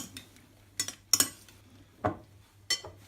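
Raw chanterelle and porcini mushroom salad being mixed in a bowl with utensils, heard as a few separate clinks and scrapes in a quiet room.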